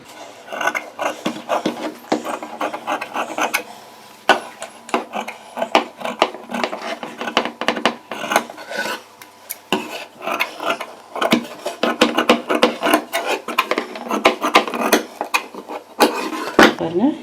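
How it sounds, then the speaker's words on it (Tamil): Scissors cutting blouse fabric for a princess-front blouse, a steady run of quick snipping and rasping strokes, close and fairly loud, with a voice speaking faintly underneath. "இப்போ இதையும் கட் பண்ணிக்குவோம்."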